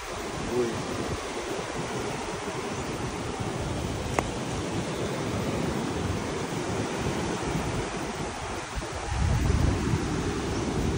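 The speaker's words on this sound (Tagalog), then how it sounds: "Malakas lang yung alon." Strong ocean surf rolls onto a beach on Boracay as a constant roar of breaking waves mixed with wind buffeting the microphone, swelling louder near the end.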